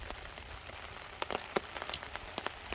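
Rain lands on a surface at a campsite, an irregular patter of light, close drops ticking one after another over a quiet background.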